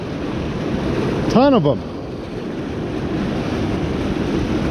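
Water rushes steadily at a fishing spot, with a broad, constant roar of surf and wind noise on the microphone that swamps everything; a short voice pokes through briefly near the start.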